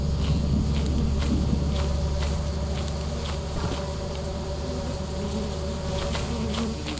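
Bees buzz continuously in a video game, a dense droning hum with soft patter and footstep-like taps mixed in, steady and fairly close throughout.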